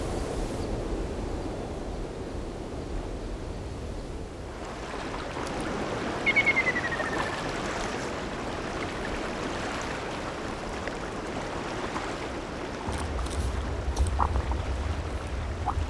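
A mountain valley stream on Baekdu Mountain runs as a steady broadband wash of flowing water, a bright brief trickle near the middle and the rush swelling louder toward the end, with no voices.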